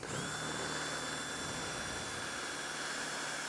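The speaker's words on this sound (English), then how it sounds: "We drill this one open and then get the ventilation going." A power drill bores ventilation holes in a helmet, running at a steady high whine that stays loud and continuous for a few seconds, close and alone.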